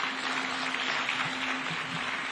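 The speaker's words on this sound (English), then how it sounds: "Let's give him a round of applause." Audience applause at a State House event on children's digital safety in Kenya: a broad, even wash of clapping from a crowd, continuous and moderately loud, with no speech over it.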